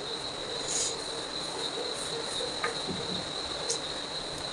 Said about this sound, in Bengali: ঝিঝি পোকার ডাকনা বাইরে।